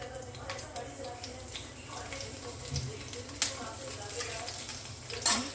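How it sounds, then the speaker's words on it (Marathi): Peanuts and chili pieces sautéing in ghee for Maharashtrian-style sabudana khichadi, a soft steady sizzle broken by light clinks and scrapes of stirring, with a couple of sharper metallic taps near the end. "थोडंसं परतून घेऊया."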